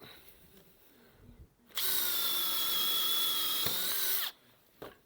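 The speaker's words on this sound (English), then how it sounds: "Now we're going to drill on the top one." Power drill boring into a timber roof joist during a garden room build, one steady high whine lasting about two and a half seconds, close and loud, rising abruptly out of quiet background noise and stopping sharply.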